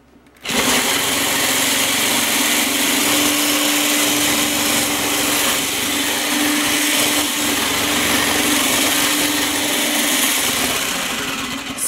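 An electric mixer whirs loudly and continuously as it whips cream for homemade butter, a steady high motor drone starting abruptly and running unbroken at close range.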